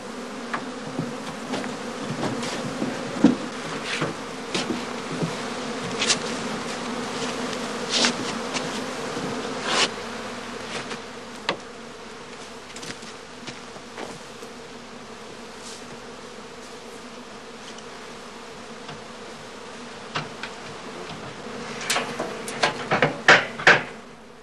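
Honey bees buzz steadily around beehives and old straw skep hives, a dense continuous hum with individual bees zipping close by and occasional wooden knocks.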